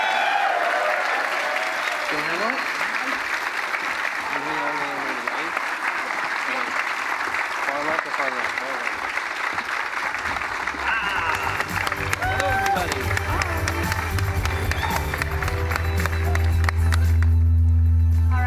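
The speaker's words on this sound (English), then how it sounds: "Let's give them a round of applause." A large audience at a God of War panel at E3 2017 breaks into loud, sustained applause that fills the hall, with a voice speaking over the clapping before music swells near the end.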